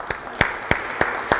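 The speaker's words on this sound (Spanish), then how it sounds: "si les damos un fuerte aplauso a ellos también" Sparse audience applause in a lecture setting comes as five evenly spaced, sharp claps across the short moment, fairly close and without voices.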